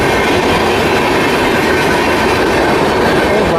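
The Rajdhani Express passenger train rushes along the rails at high speed, heard as a loud, dense, continuous roar and rumble of wheels from on board, with no voices.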